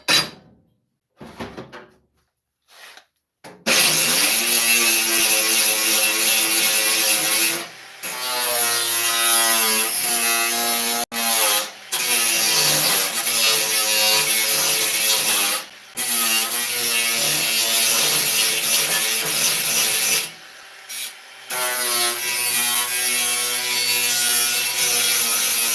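A grinder works on a metal part for a 1973 Superglide motorcycle, running in long loud close passes broken by short pauses, with no talk.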